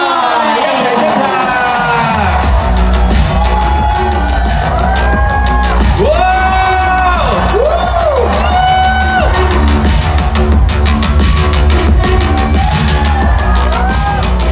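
A large crowd cheers, whoops and applauds continuously and loudly as stars take the stage at the Hong Kong Comic Con 2026 opening ceremony, with music and an announcer's voice blended into the roar.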